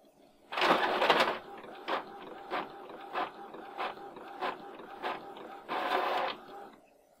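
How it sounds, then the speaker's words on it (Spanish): A desktop printer pulls in a sheet and prints a PDF document: a loud mechanical whir at the start, then a steady run of rhythmic clicking passes, another loud feed burst near the end, close and alone. "la impresora acaba de jalar una hoja y realizar la impresión de loren.pdf"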